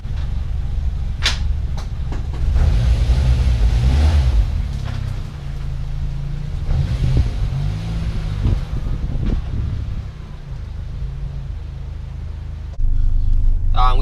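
A Nissan B13 Sentra with a turbocharged 1.6 engine drives along, its low engine drone and road rumble rising and falling with gear changes, with scattered clicks and a brief voice at the end.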